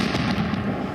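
A blast in Mariupol comes through as a dense, continuous roar of rumbling crackle, loud and sustained for the whole moment with no voices.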